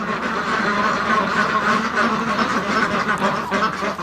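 A flock of ducks in a breeding pen quacks continuously and densely, close by and fairly loud, with chickens nearby on the farm.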